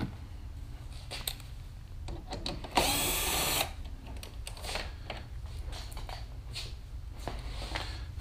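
A power tool spins off one more bolt during a trailer wiring harness and hitch installation on a Can-Am Spyder RT, a single loud burst of under a second amid quiet workshop clatter.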